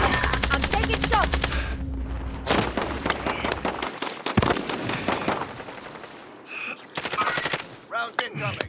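Automatic gunfire rattles in Call of Duty: Modern Warfare, loud rapid bursts with heavy impacts and scattered shots, then short sharp volleys after a brief pause.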